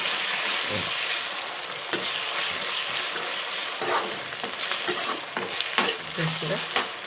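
Ginger and garlic sizzle in hot oil in a pan for a Telangana nalla fry, with a steady crackling fry broken by scraping stir strokes, close and loud, and no talking.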